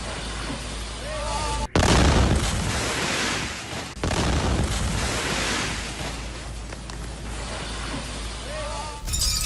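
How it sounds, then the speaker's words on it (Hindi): A sudden heavy blast of a missile strike on Kyiv booms, followed by a long rumbling roar and a second loud impact, with muffled voices briefly audible at the start. "मिसाइल अटैक के बाद जोरदार धमाका।"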